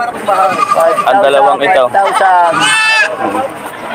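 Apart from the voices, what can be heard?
goats bleating at a livestock market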